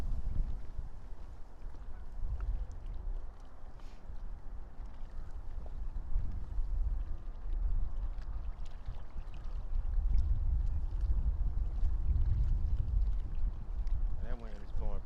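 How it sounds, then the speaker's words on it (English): Wind gusting over an open fishing boat near a bank while bass fishing in early spring, a steady low rumble of buffeting that swells louder in the second half. "That wind is blowing perfect."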